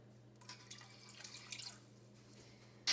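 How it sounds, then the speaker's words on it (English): A rennet and non-chlorinated water mixture is poured into milk for Ibores cheese, giving a faint, soft trickle and drip over a low steady hum, with a sharper splash right at the end. "now we're going to add our rennet and non-chlorinated water mixture."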